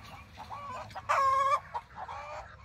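Hens on a family homestead farm cluck nearby in short bursts, with one louder, drawn-out squawk in the middle.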